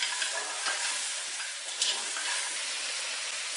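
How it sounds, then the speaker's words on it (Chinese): Peanuts being stir-fried with braised Hakka-style pork trotters, scallion and dark soy sauce in a wok: a soft, steady sizzle with a few scraping stirs and faint clatters, quiet and without talk. "将花生米倒进来"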